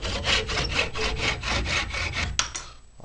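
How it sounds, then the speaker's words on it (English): A tenon saw cuts through wood in about nine quick, even push-pull strokes, close and crisp, before stopping abruptly with a final scrape. "Then we get our tenon saw."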